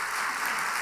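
A steady wash of congregational applause fills a church at an evening Sunday service, dense and even throughout the short stretch with no distinct voices on top.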